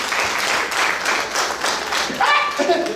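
Audience applause at a Haitian comedy show, a steady patter of many hands clapping for about three seconds, fairly close and even, with a voice coming in over it near the end.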